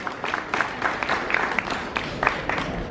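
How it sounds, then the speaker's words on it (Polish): Applause from an audience at an award ceremony as a Beauty Blogger of the Year title is presented, a crowd clapping steadily at moderate distance for a few seconds with small swells of louder claps. "Ogromne brawa, moi drodzy."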